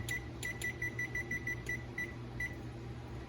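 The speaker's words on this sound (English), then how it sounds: "And I'm gonna set my timer for," A kitchen timer gives a run of short, clipped electronic beeps at uneven intervals as it is set for a cooking time, close by over a steady low kitchen hum.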